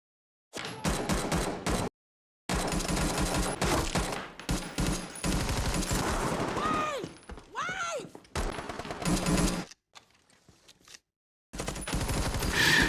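Gunfire crackles through a film shootout in dense rapid bursts of automatic fire and single shots, broken by brief silent gaps and whooshing effects, loud and close throughout.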